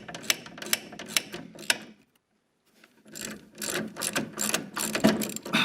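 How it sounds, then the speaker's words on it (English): A ratchet on an extension unscrews a bolt through a spring on the rear air suspension of a 1976 Mazda RX-5 Cosmo, giving quick bursts of clicking with a short silent pause, then longer, denser ratcheting close by. "I needed a ratchet extension through the spring to unscrew this."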